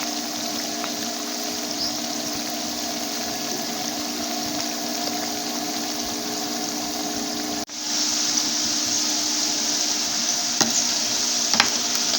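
Potato chips frying in a pot of hot oil, a steady dense sizzle and bubbling that runs throughout, briefly dipping before resuming with a few faint clinks, no voices.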